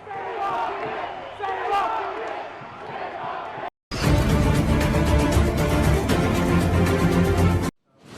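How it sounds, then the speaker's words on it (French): Crowd of rioters outside a hotel housing asylum seekers in Rotterdam, with police holding them back: a dense, loud roar of many voices and shouts, briefly cut off, then returning fuller and harsher, cutting off again near the end. "la police de la ville de Rotterdam s'efforçait de contenir une foule d'émeutiers qui tentaient de pénétrer dans un hôtel hébergeant des demandeurs d'asile"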